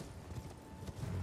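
A horse gallops in Elden Ring with a quick, rhythmic run of hoof thuds, close and fairly loud, and no talk over it.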